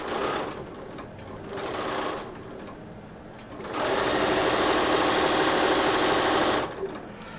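A sewing machine stitches fabric strips together in several bursts: short runs of whirring at first, then one long, loud continuous run of stitching before stopping.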